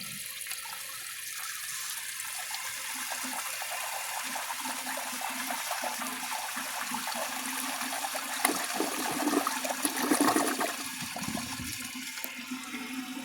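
A 1981 Briggs Conserver toilet flushing up close, a steady rushing wash of water that swells into a louder surge near the end as the bowl drains and refills, with no talking.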